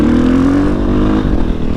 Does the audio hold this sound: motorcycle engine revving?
yes